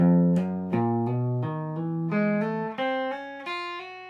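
Quick guitar notes climbing in pairs across all six strings, each plucked note followed by a smooth hammered-on note, in an even, steady rhythm with no talking.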